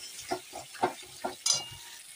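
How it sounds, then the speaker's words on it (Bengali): A cashew spice masala being sautéed with water in a pan: a short run of about six rhythmic stirring strokes over a soft hiss, close by. "জলটা দিয়ে এখন ভালো করে একটু কষিয়ে নিই"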